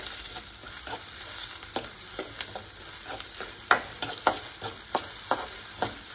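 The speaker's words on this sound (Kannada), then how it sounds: "ನೋಡಿ, 3 ಸೆಕೆಂಡ್ ಈರುಳ್ಳಿ ಎಣ್ಣೆಲಿ ಫ್ರೈ ಮಾಡ್ಕೊಂಡಿದ್ದೀನಿ." Onions and curry leaves fry in oil with a quiet, continuous sizzle, punctuated by a regular series of sharp scraping taps as a utensil stirs the pan; no voices.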